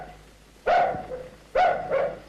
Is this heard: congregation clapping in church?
no